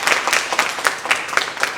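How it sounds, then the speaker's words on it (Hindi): A short burst of applause from a group at a direct-selling business event, with brisk overlapping claps filling the moment, no voices. "एक बार आप सब अपने एमडी के सम्मान में जोरदार तालियां बजा लेते हैं"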